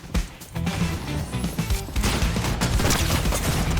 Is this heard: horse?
no